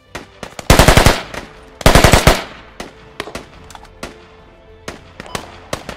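Loud, close bursts of automatic gunfire in the military shooter game Squad, two sustained rapid volleys followed by scattered single shots and distant reports.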